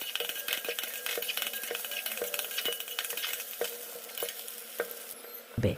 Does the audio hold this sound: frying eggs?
yes